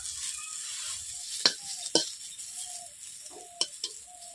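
Pointed gourd (potol) frying in a wok gives a high, hissing sizzle, punctuated by a few sharp metallic scrapes and clicks of a utensil against the pan.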